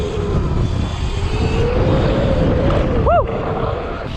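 Surron Segway X260 electric dirt bike riding along with its chain freshly tensioned, a steady whirring drive under heavy wind rush, with one brief rising-and-falling whine near the end.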